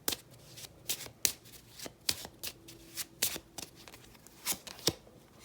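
Tarot cards are shuffled by hand before a card is pulled, producing a series of quick, crisp riffling bursts at an uneven rhythm. They sound close and clear, with no voices.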